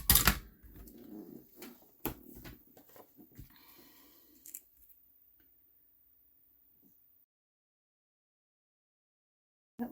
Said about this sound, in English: Now we'll die cut this out.